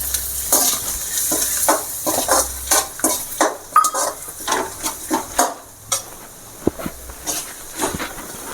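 Kari vadagam stirred in a hot pan, rhythmic scraping strokes of a spatula against metal over a steady frying sizzle, close and fairly loud.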